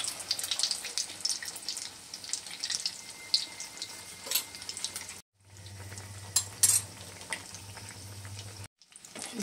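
A tomato paratha coated in egg fries in hot oil with a steady crackling sizzle, close and continuous, cut by brief moments of quiet and occasional clinks of a utensil.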